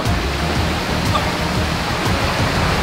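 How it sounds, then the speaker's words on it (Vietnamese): Water gushes steadily as it is released into an indoor swimming pool built inside a house, a loud, dense, continuous rushing that stays constant throughout without a break. "xả nước ra này."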